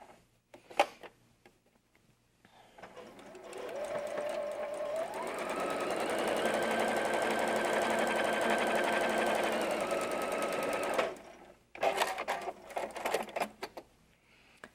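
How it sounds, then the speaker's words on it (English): A sewing machine runs one steady, continuous stitching line to finish a seam on a quilt block. Brief clicks and handling noises come just before and after the stitching. "Now I can continue the sewing line where I started to sew and sew to the outside of the block."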